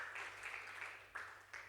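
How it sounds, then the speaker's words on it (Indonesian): A church congregation gives applause during a service, a soft distant patter of clapping with a few sharper individual claps standing out. "Berikan tepuk tangan saudara-saudara yang mulia bagi nama Tuhan."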